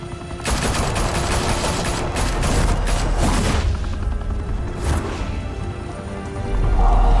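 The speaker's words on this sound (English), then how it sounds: "Open fire!" Gunfire in the video game Batman: The Telltale Series during a gangster shootout, loud sustained automatic bursts that rattle on continuously for several seconds with dense overlapping shots.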